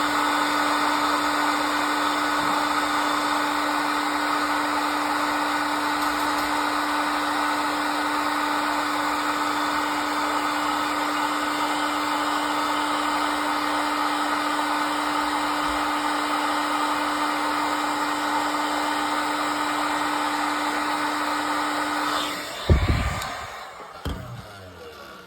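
A heat gun or similar hot-air blower warms a plastic lever blank before bending, running as a loud, steady whine with a constant tone for over twenty seconds, then cutting off into a few clunks and handling noises.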